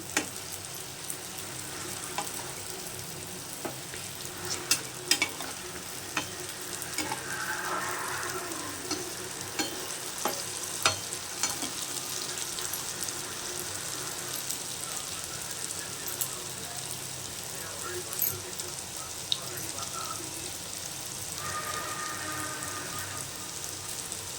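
Potatoes and onions for aloo piyaji frying in hot oil, a steady crackling sizzle with scattered pops throughout, close and fairly loud, with faint scraping near the end.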